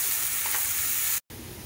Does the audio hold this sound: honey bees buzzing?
no